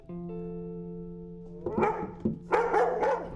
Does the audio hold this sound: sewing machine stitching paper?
no